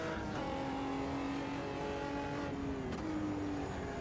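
Omega Brazilian stock car from the racing game Automobilista 2 revs its big engine, a steady droning tone that rises and falls slightly under a wide wash of noise, fairly faint and continuous.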